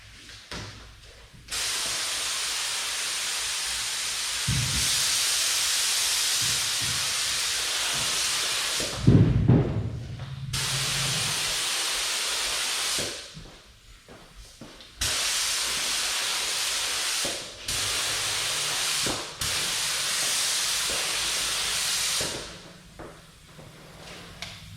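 Bulldog adhesion promoter sprayed from an aerosol can in light coats onto raw plastic, a steady hissing spray in several long bursts separated by short pauses, close and loud.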